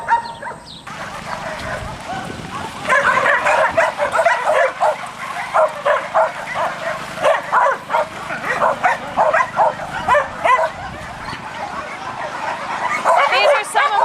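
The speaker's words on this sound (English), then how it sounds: "These are some of our dog kennels." Several dogs in tarp-shaded animal shelter kennels bark and yip in rapid, repeated bursts, fairly close and loud, while a person talks over them.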